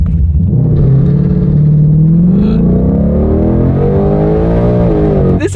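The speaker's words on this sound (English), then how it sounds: "Okay, here we go, lowest RPM setting in drag mode. Let's see if this changes the launch feeling," A McLaren 765LT supercar launches in drag mode at its lowest RPM launch setting. The engine roars loud and close, its pitch climbing steadily as it revs hard throughout.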